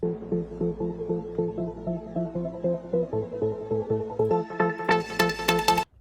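A trance pluck loop layered over an atmospheric pad, with rhythmic synth plucks pulsing above a sustained low drone, brightening and building in the final seconds before cutting off.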